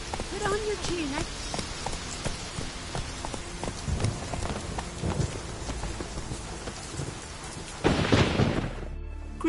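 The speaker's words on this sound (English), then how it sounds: "It's raining." Steady rain pours on surfaces in The Witcher video game, a dense continuous hiss with a swell of heavier downpour or thunder near the end; faint voices and game sounds sit beneath it.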